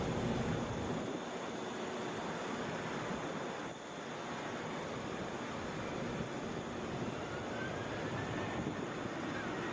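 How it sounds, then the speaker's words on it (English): Delta Boeing 737 airliner at Atlanta International Airport, its jet roar a steady, loud broadband rush lasting the whole stretch with a slight dip midway and no voices. "This is Delta 1331 headed to Pittsburgh. That is a Boeing 737."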